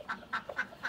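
Ducks quack in a quick, steady series of four loud, nasal calls, close by with no talking.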